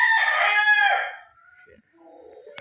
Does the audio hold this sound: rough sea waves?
no